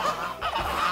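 Farmyard geese honk loudly and close in a quick burst of overlapping calls, with other fowl around them and no voices.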